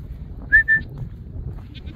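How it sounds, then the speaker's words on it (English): Goats on a farm give two short bleats close together near the start, against a low rumbling background, with a couple of faint high chirps later. "my goats are facing me."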